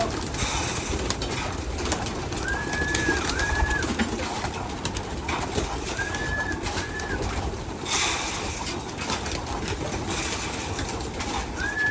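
Pigeons coo in soft repeated phrases at moderate distance, recurring a few times over steady outdoor background noise and faint rustling.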